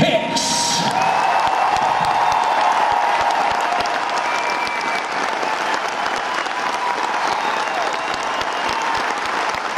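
Concert crowd at a live show applauding and cheering, with sustained loud clapping, whoops and shouts from a large audience.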